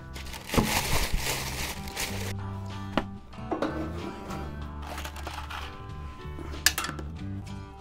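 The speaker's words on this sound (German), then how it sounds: "Das hört sich nach Schrauben an." Loose screws and metal parts rattle and clink as an Enders Monroe Pro 4 gas grill is unpacked. The metallic jingling and clattering is close and continuous, with a few sharper knocks.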